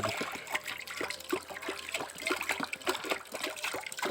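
A gallon of water poured into a pot of rice for rice wine, a steady close trickling and splashing with small irregular drips throughout.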